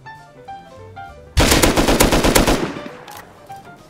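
Automatic gunfire from the survival game Rust: a loud, rapid burst of shots lasting over a second, clearly in the foreground, with quieter in-game tones before and after.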